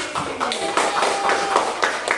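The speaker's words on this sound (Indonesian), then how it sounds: "Beri tepuk tangan bagi" Classroom children clap in a quick, slightly ragged burst of hand claps, repeated sharp taps across a couple of seconds with faint voices mixed in.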